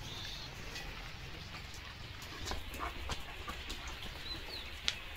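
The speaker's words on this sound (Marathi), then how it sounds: "लिओ पावसात भिजतोय." Steady rain falling outdoors on a wet morning with a German Shepherd out in it, a soft continuous hiss with scattered drips, faint and even throughout.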